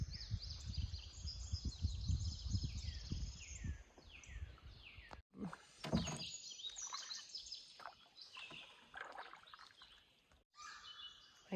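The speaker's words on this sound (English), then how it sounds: "Listen to all the birds." Many birds chirp and trill in repeated bursts over gentle water and paddling sounds on a river at Mammoth Cave National Park, Kentucky, fairly close and lively, with no talking.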